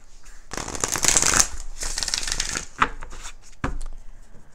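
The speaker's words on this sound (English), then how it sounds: "And then we'll pull some cards" Tarot cards are shuffled by hand in close, crisp riffling bursts, with a long flurry followed by a few shorter snaps and pauses.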